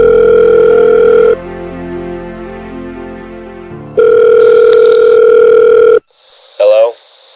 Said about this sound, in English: he picks up the phone and decides to call Carson up